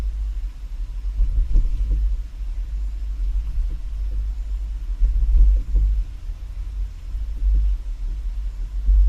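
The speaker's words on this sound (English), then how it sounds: "Once we get to the full speed bumps, we'll see the up and down action." A vehicle carrying a Swagman XTC2 tilting bike rack for two bikes rolls slowly over full-width speed bumps, giving a low engine rumble with periodic dull thumps and faint rattles as it bounces.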